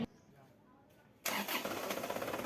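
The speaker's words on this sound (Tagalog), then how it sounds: "At kung sa palagay mo okay na, pwede mo nang start itong makina." A quiet hum gives way to an Isuzu Crosswind diesel engine cranking and catching, then running loudly and roughly close by; the engine has a starting fault and does not start in one click.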